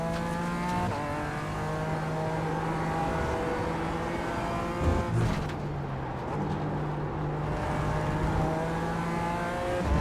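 Toyota GR86 lapping Mugello in a sim racing game, its engine droning steadily at high revs with gear changes and a brief burst near the middle, loud and continuous with no voices.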